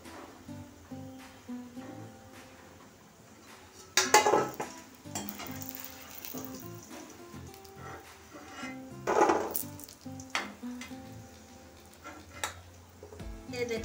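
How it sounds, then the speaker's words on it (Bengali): Layered khasta goja pastries deep-frying in oil, a soft steady sizzle broken by bursts of louder bubbling and clattering pan and utensil noises, fairly quiet and without speech. "এখন আমি আরগুলো এইভাবে ভেজে নেব"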